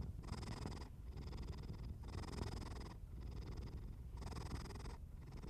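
A steady, close cat purr rumbles continuously, swelling and easing in soft rhythmic pulses with each breath, with no other sounds.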